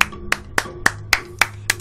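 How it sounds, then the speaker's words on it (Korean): Seven sharp claps spaced about a quarter second apart, a steady even rhythm, close and clear with nothing else over them. "박수 한번 더 치고 합시다."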